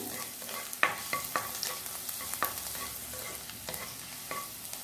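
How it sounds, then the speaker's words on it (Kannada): Finely chopped garlic frying in a pan for chicken fried rice, with a continuous sizzle broken by repeated scraping clicks of a spatula stirring the pieces. "ಒಂದು 4-5 ಎಸಳು ಬೆಳ್ಳುಳ್ಳಿಯನ್ನು ಸಣ್ಣಗೆ ಕಟ್ ಮಾಡಿ ಹಾಕ್ಕೊಳ್ಳಿ. ಇದು ಫ್ರೈ ಆಗಬೇಕು."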